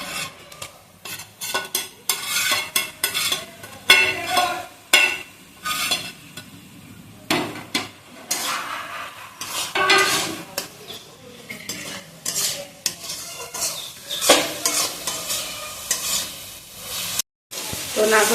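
Grated coconut frying with melted sugar in a pan, with repeated scraping and stirring strokes against the pan and a faint sizzle throughout, close and busy over a long stretch, without talking.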